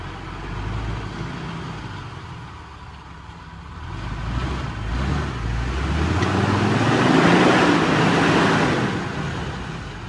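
A Jeep TJ off-road 4x4 engine drives forward over a hard ridge, its motor note swelling and climbing in pitch as it pulls ahead, steady and fairly close with no talk.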